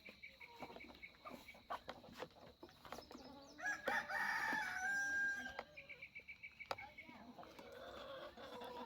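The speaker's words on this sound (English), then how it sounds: "I had 3 female guineas." Female guinea fowl calling among a flock of chickens, with repeated harsh squawks and clucks near and far, a rooster crowing mid-clip, and someone talking at times over the birds.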